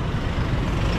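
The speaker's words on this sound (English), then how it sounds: "This is the bus." A bus on a busy city street in Vietnam among motorbikes at a traffic light, heard as a steady, close low engine rumble with broadband traffic noise throughout a single short moment.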